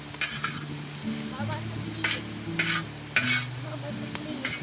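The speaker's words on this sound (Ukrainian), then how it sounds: "Паралельно не забуваємося, що в нас тушкується ще цибулька" Onions stewing in a pan give a gentle steady sizzle, with a few sharp utensil scrapes and clinks on top, close and moderate in level, no talking.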